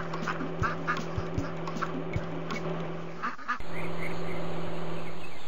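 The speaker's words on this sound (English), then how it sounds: "The baby ducks are out of the road." Ducks quack in short bursts over a steady low hum, several calls spaced unevenly, before the background shifts to a louder steady wash.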